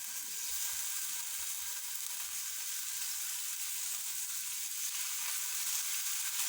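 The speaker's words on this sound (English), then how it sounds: "Again with the sizzle." Chicken stir fry sizzles steadily in a hot pan, a continuous bright frying hiss heard up close with no talking.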